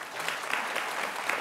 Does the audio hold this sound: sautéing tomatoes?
no